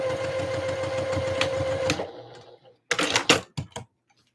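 A sewing machine stitches down the elastic channel on a Christmas dress sleeve, running steadily for about two seconds before stopping, followed by a few sharp clicks and short bursts.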